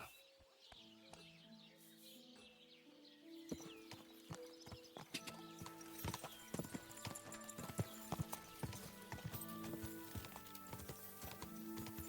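Hooves clip-clop steadily as a horse gallops, growing louder over a faint musical backdrop, with no talking.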